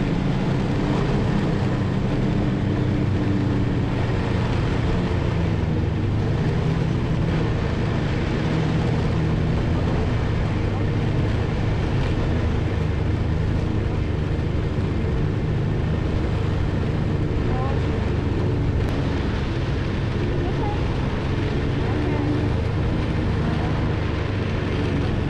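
Snowmobiles run down a steep mountain trail with a steady, broad engine drone and wind rush that stays constant and close throughout, while a voice occasionally talks underneath.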